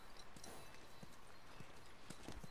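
Horse hooves clip-clopping in the video game The Last of Us, a quiet steady series of walking hoof knocks under ambient wind-like noise, alone without talk.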